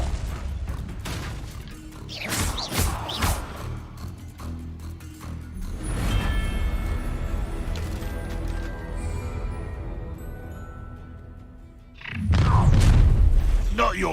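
A Bombarda spell going off in Hogwarts Legacy, with heavy booming blasts and crumbling, rumbling debris, then a sustained resonant tone and a second deep boom near the end, loud and close.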